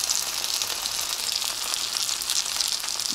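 Fish frying in a pan in Pattaya, giving a steady, dense, hissing sizzle of hot oil that runs unbroken and close, with no talking.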